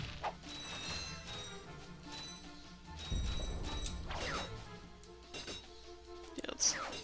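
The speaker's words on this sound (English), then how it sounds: "Get all the bolts. Give me the bolts." Ratchet and Clank video game audio of bolts being collected, with clattering mechanical pickup sounds and metallic clinks layered over busy game music and effects, with a sharp chime near the end.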